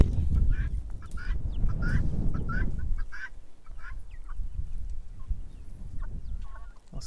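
Free-range naked-neck hens cluck and call in a farmyard while eggs are gathered, with a dense, noisy burst of bird calls at first that thins out to scattered, quieter clucks.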